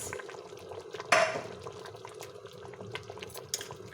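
Hot ghee and onion tempering poured into a pot of pumpkin soup, heard as a sudden sizzling splash that fades into soft bubbling, with faint clinks of utensils around it.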